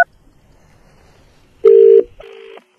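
Two telephone dialing tones sound alone, close and loud, during a prank call: a long steady beep followed after a short gap by a second, quieter one, with faint background murmur before.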